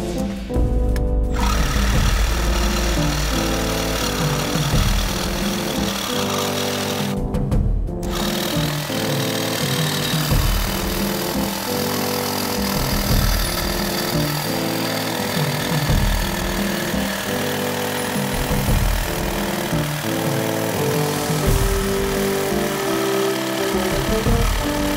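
A power tool cuts steadily through a Land Rover Discovery 3 rear suspension arm, a continuous loud grinding drone with a rhythmic pulsing texture lasting throughout, close to the microphone with no talk.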